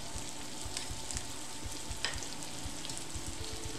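Potatoes for Lyonnaise frying in butter in a pan, a continuous crackling sizzle with soft, regular low bubbling pops and a brief scrape partway through, with no voices.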